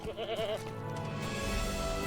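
A goat bleats in the game LOTRO, a short wavering cry near the start followed by softer farm ambience.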